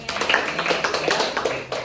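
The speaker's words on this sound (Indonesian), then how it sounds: "Tepuk buat Tio dong." A school class claps hands in quick, uneven bursts for a couple of seconds, fairly close.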